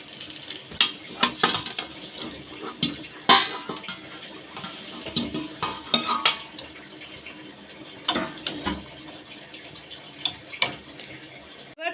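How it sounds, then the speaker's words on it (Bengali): Fried potato pieces dropped one by one into mutton curry in a pressure cooker on a gas stove, giving a series of sharp clattering knocks and scraping stirs against the metal pot, with a faint wet sizzle underneath and no talk. "এবার এর মধ্যে আমরা ভেজে রাখা আলুগুলোকে দিয়ে দেব এক এক করে।"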